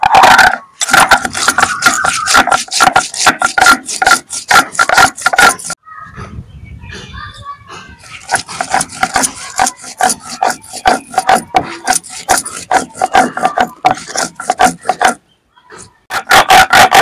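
Chilli, garlic, cumin and mustard ground into a paste on a stone, making loud, rhythmic rasping scrapes in fast back-and-forth strokes, with a short pause midway before the grinding resumes.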